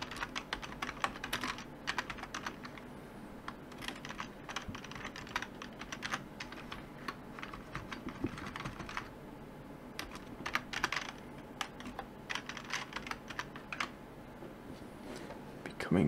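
Rapid, close clicking of computer keyboard typing in a bursty, irregular rhythm, picked up by a high-gain microphone with steady background hum, while a voice talks intermittently over it.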